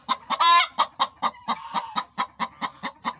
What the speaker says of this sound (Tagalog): May isang nangingitlog na manok.